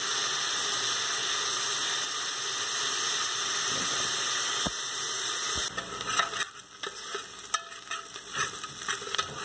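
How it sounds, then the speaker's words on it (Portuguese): Chopped scallions frying in a pan for chicken giblet polenta, a steady close sizzle and hiss with a few stirring scrapes and clinks toward the end. "Deixa a cebolinha fritar aí, né? Está fritando a cebolinha."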